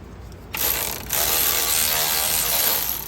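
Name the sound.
ratchet with 13 mm socket removing bracket bolts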